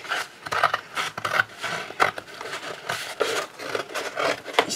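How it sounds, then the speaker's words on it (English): Scissors cutting open an Amazon paper packaging envelope, with a run of close, uneven snips and crinkly rustles of the paper in quick succession. "So let's just cut it open."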